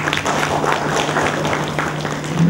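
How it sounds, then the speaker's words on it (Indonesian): An audience claps at the opening of the 40th annual general meeting of the Malay Chamber of Commerce in Kuala Lumpur, a dense, continuous round of applause held at a steady level throughout. "Satu tepukan untuk Dewan Kuala Lumpur."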